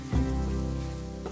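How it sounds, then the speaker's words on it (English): Spice masala of turmeric powder and garam masala for a green peas paratha stuffing, stirred and frying over a high flame: a steady, close sizzling hiss that runs without a break through the short moment. "Keep the flame to be high and stir continuously so that it doesn't get burnt and also it dries up quickly."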